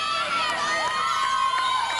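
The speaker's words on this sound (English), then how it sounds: "You can hear them cheering." Auburn gymnastics teammates cheering and shouting inside Kentucky's gym at a 2002 NCAA gymnastics meet, a continuous, somewhat distant crowd roar with high voices rising and falling.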